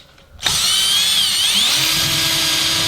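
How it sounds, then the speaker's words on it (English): A spinning wooden wheel is sanded on a power tool, starting after a brief quiet moment and continuing as a steady, high whirring hum with a faint rising whine. "I would normally sand this for probably 10 or 15 minutes."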